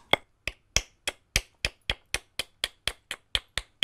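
Flint knapping to strike a burin spall off a blade, a steady series of about fourteen sharp, hard knocks spaced roughly a third of a second apart, close and clear, with no talking.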